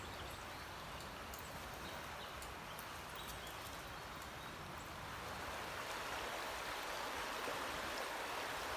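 The River Avon, flowing down from Dartmoor through woodland, rushes in a steady, continuous wash of water that stays even and fairly close throughout.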